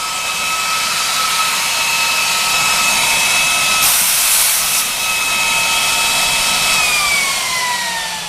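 A personal airgun air compressor runs loud and steady throughout, a broad roaring hiss with a constant high whine that shifts pitch partway through and a brief burst of extra hiss near the middle.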